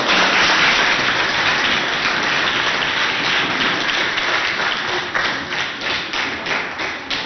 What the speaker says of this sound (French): je demande à tout le monde d'applaudir pour ces enseignants